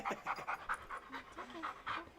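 A dog pants in quick, rhythmic breaths at a patio party, the huffs close and steady with no talking over them.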